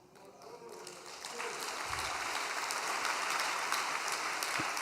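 Audience applause at a spoken address, a broad steady wash of clapping that swells after the first second and holds at a moderate, fairly distant level with no talk over it.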